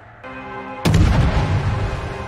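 Ship guns in World of Warships fire as a single loud, booming naval salvo that crashes in after a quiet humming lead-in, followed by a long rumbling roar.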